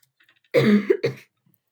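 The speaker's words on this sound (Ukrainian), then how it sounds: "Да, сорян за кашель" Two harsh coughs from a slightly ill speaker close to the microphone, a longer rasping one followed quickly by a shorter one, in otherwise near silence.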